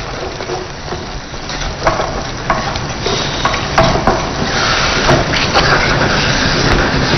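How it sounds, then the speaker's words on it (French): Sorrel leaves and garlic stirred in a frying pan, a steady loud sizzle with repeated scraping strokes of the spoon across the pan, continuous and close, with no talking. "Et là maintenant, je remue progressivement."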